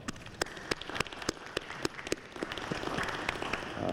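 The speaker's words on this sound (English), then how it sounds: "Let's give them a round of applause." Scattered claps from a small audience at a community school grant announcement, sharp individual hand claps spaced irregularly before thickening into a steadier patter of applause near the end.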